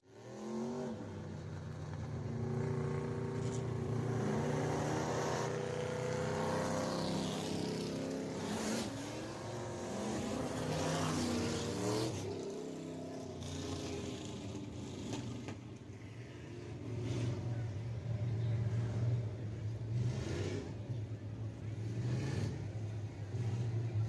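Dirt-track race cars at Deep South Speedway roar through a heat race, engines loud and sustained with rising and falling revving as cars pass, a race announcer talking over the continuous motor noise.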